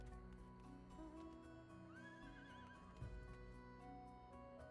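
A horse in the Final Fantasy video game neighs and whinnies, a rising warbling call near the middle, layered over steady game music and ambience with a soft thud later.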